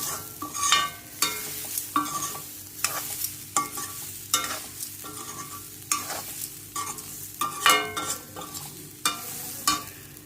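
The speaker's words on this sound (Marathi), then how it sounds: "रवा भाजायला लागतो" Broken wheat (dalia) dry-roasting in a pan over a low flame, stirred with a spoon in a run of rhythmic scraping strokes, each a short rasping burst over a faint, steady sizzle, close up with no talking.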